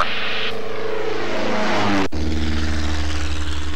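A seaplane on floats takes off with its propeller engine roaring loud and close, a steady drone that rises in pitch as it gathers speed on the water, then shifts to a smoother, lower hum once airborne.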